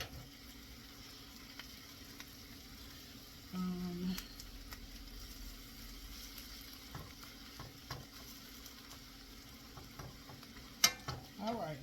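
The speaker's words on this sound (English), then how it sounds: "Now I want to go ahead in with my mushrooms. Let them cook down a little bit." Mushrooms sizzling as they cook down in a pan for a vegetable risotto, a quiet steady sizzle with occasional stirring clinks and scrapes, one sharper knock near the end.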